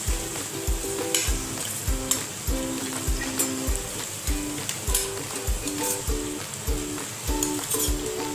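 Chili powder, kitchen king masala and coriander powder sizzle loudly in a pan for a spicy jackfruit curry, with a spoon stirring and scraping in a regular rhythm and light metallic clinks.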